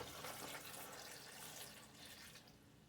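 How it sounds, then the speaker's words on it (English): Water poured over canned jalapeno peppers in a jar, a soft continuous splashing pour at low level, steady for a few seconds with no talking. "I'm going to put my water over those."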